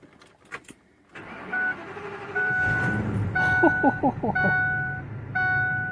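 A car engine cranks and catches on an AstroAI S8 jump starter with no battery connected, then idles steadily while a warning chime beeps repeatedly; voices talk briefly before it starts.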